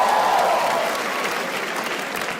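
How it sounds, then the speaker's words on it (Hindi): Audience applause at a live comedy show fills the room, dense and steady clapping that stays loud throughout and eases off slightly toward the end. "एक बार जोरदार ताली बजा दो सबके लिए भाई."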